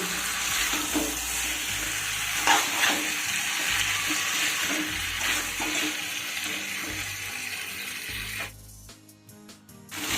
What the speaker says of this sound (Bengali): এবার আলুটা দিয়েও আরও এক মিনিট মতো আমি কষিয়ে নেব